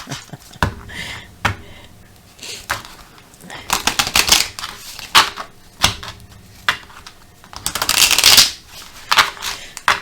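Oracle cards are shuffled by hand in riffling, flicking bursts with short pauses between, close and crisp, building to a denser flurry near the end.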